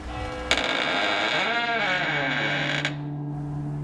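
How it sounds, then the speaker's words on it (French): A wardrobe door slowly swings open with a long, loud wavering creak of old hinges, close and alone, stopping abruptly before a low hum. "un grincement se fit entendre."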